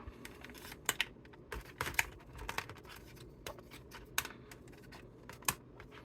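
Plastic Transformers Shattered Glass Grimlock toy parts being folded and clicked into robot mode, a scattered series of small sharp clicks and light scratchy rubs, close and quiet, irregularly spaced.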